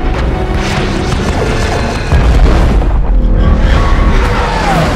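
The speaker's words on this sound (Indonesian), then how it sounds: "Zoro, salah satu prajurit setia Hayes, melepaskan tembakan." Loud blast sound effect in a narrated alien sci-fi story, a heavy booming crash that fills the clip with dense, continuous rumble and no audible talk.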